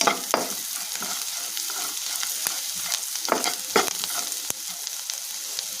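Onions with turmeric and salt are stirred in a hot pan for a drumstick, raw mango and egg curry, giving a steady sizzle broken by repeated spatula scrapes and taps against the metal.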